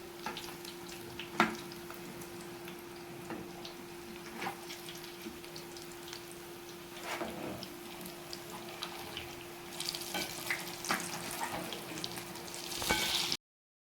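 Badiyan sizzle steadily in hot oil in a pan, a soft, continuous crackle with occasional light scrapes and stirs. Near the end it briefly swells louder.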